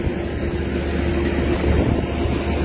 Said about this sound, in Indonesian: pesawat yang membawa kita ke Bau-Bau guys